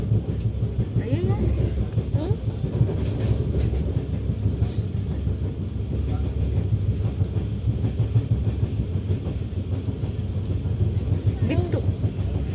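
Passenger train travelling from Mumbai towards Karnataka, a steady close rumble with rhythmic rattling of the carriage, heard from inside with occasional voices.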